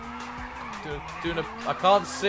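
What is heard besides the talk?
car drifting with handbrake in racing video game Race Driver GRID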